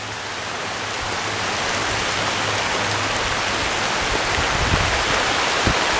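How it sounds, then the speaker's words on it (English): Hail pours down outdoors in a dense, continuous hiss of ice striking surfaces, loud and steady throughout with a few sharper impacts near the end. "It's freaking hailing out here,"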